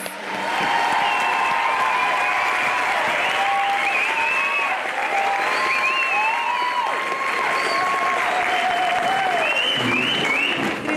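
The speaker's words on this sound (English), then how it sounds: "Can we please give our 23 Alpha students a warm round of applause?" Loud, sustained applause from a graduation ceremony crowd welcoming 23 Alpha students, with whistles and cheers rising over the dense clapping.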